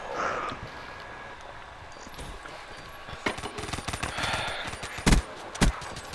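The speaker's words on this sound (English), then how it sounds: "I hear him shooting." Enemy gunfire in a Call of Duty: Black Ops III Search and Destroy match, heard as scattered bursts of shots over game ambience, growing busier partway through with two sharp, louder reports near the end.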